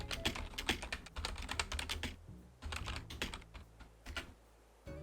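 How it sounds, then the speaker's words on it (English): A computer keyboard is typed on in quick, uneven bursts of close, loud clicks and taps, pausing briefly between runs of keystrokes. "Sorry for typing."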